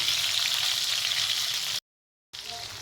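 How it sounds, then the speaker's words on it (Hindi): Gola kebabs fry in hot oil, giving a steady close hiss and crackle that cuts out briefly, then resumes. "साथ हम ये कुछ गोला कबाब हैं, ये भी जो है ना इनको भी फ्राई कर लेते हैं।"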